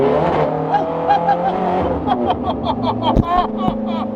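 A supercar loses traction, its engine droning and revving while the tires whine and squeal, loud and close, with a voice talking over it.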